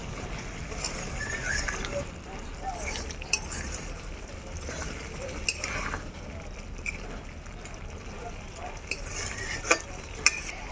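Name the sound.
stir-frying palak paneer with butter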